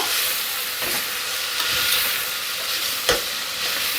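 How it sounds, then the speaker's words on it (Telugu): Fenugreek leaves sizzling in a hot pan while being stirred, a steady close hiss of frying with a few soft scrapes and one sharp knock of the spoon against the pan near the end. "ఒక్కసారి ఇలా కలుపుకుందాం."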